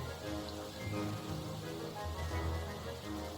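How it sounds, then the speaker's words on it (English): Rain falls steadily in The Forest video game, a dense, even hiss of drops on the ground with a low rumble beneath, continuous and without speech. "It is raining now, so go ahead and check out the rain."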